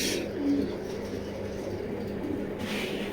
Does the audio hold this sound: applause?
no